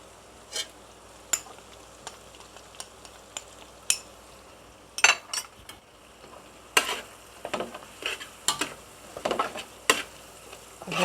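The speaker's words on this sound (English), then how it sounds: "Continue to stir fry. Put in the curry powder." Pineapple chicken with curry powder being stir-fried in a pan, a soft steady sizzle under intermittent scraping and clinking strokes of a utensil that grow busier and louder toward the end, with no talking.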